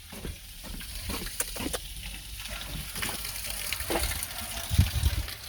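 Water gushing and spilling over the brim of a full container in a home, a steady splashing wash with some clatter, rising in the last second.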